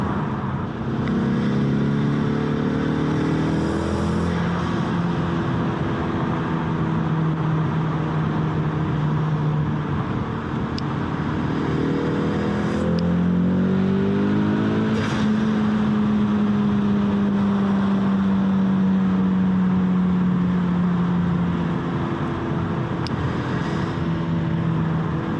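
A 2020 Ford Mustang EcoBoost with the High Performance Package and 2.3-liter engine, heard from inside during spirited driving, gives a loud, continuous engine drone whose pitch climbs and falls through repeated hard accelerations. No one speaks.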